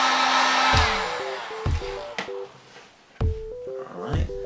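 A heat tool blows hot air onto EVA foam, a whooshing airflow that fades out early, followed by sparse clicks and short tonal beeps in a quiet room.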